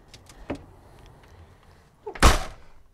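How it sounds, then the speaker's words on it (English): An indoor room door closed at home, a faint tap early on and then a single loud, close thump of the door shutting near the end, otherwise quiet. "let me close the door"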